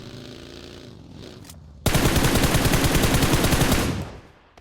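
Sustained rapid burst of shotgun fire from a DBS in PUBG Mobile, loud and close, lasting about two seconds after a quieter stretch of game ambience, then cutting off.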